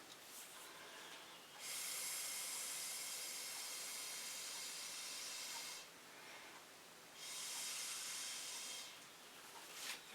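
Air blown by mouth across wet fluid acrylic paint with fuchsia cell activator, two long breathy hissing gusts of a few seconds each, close and fairly loud, separated by quieter background.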